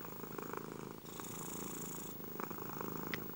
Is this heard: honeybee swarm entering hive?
no